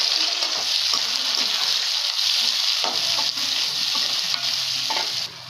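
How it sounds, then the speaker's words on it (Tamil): Two onions, cut into long slices, fry in a pan with cumin and chana dal for Bombay sambar. A continuous close sizzle is broken by scraping stirs and a few sharp clicks, with no voices. "வெங்காயம் நீட்டமாக கட் பண்ணி வச்சுருக்கோம் ரெண்டு வெங்காயம் அதையும் சேர்த்துக்கலாம்"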